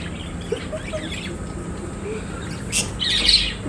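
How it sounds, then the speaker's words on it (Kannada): Pet birds kept at home squawk in short harsh bursts, a couple of faint calls early and a louder cluster near the end, close by over a low indoor hum. "ಬರ್ಡ್ಸ್."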